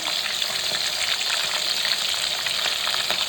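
Curry leaves hit hot oil for methi pulusu, giving a loud, steady crackling sizzle that runs unbroken throughout, close up with no talking.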